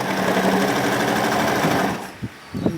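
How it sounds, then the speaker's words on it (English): A sewing machine runs steadily, stitching along the waistband of a pencil skirt, then stops near the end as a couple of soft handling knocks follow. "And then I'll keep sewing all through to the end of the band."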